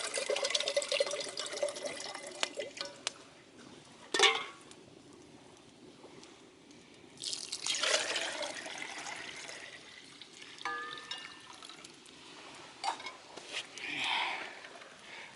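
Settled water being poured from a container back into a metal pot outdoors at a bushcraft camp, faint splashing and trickling in several bursts over a quiet background.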